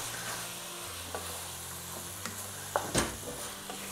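Paneer bhurji frying in a pan while being stirred, a steady soft sizzle with occasional scraping and clinking of the utensil against the pan, louder knocks near the end.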